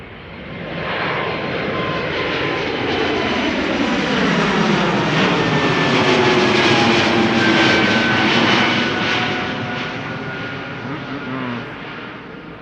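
Air Baltic jet in Austrian flag livery climbing out of Amsterdam Schiphol toward Tallinn, a rising, then fading engine roar with a sliding whine as it passes nearby, loud at its height and tapering toward the end.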